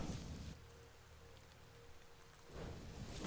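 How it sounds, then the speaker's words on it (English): Rain in the video game Satisfactory, a steady soft hiss of falling drops that fades briefly in the middle before swelling back, ambient and fairly faint with no talking. "There appears to be rain."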